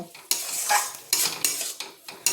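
Biryani masala spices are sautéed in a pan while cooking a dhaba-style drumstick curry. A utensil scrapes and stirs in short repeated bursts over a steady sizzle, close and fairly loud, with no talk.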